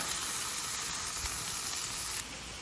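Seasoned cabbage sizzles steadily on a Blackstone griddle outdoors at a state park campsite, a loud, even frying hiss that drops abruptly to a quieter sizzle near the end.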